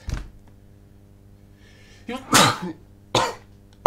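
A person coughing up close, with two loud, harsh bursts after a quieter stretch that begins with a short faint one.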